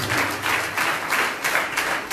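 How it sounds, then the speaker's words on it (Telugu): A Sunday worship congregation at Madikonda claps loudly in a steady rhythmic beat, with no voices over it. "గట్టిగా చప్పట్లు కొట్టి"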